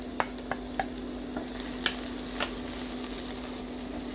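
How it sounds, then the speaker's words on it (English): Garlic sizzles steadily in hot cooking oil in a frying pan, with a constant frying hiss and a few light taps and stirs scattered over the top. "Now let's fry our garlic."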